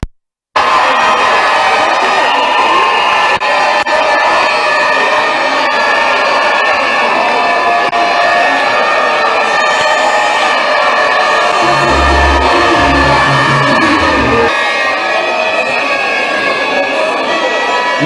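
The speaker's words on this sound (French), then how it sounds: "Levez-vous. Acclamez les parents très très fort." Large audience at a political gathering cheering, whooping and applauding loudly and continuously for the parents, a dense crowd roar that swells near the end.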